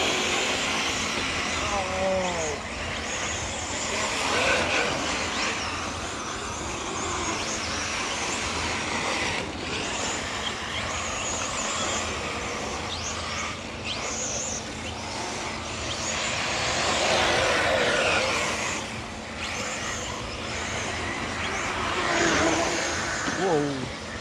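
Radio-controlled cars race around an RC raceway, their small motors buzzing and whining steadily with some revving, while several people shout and talk loudly over them throughout.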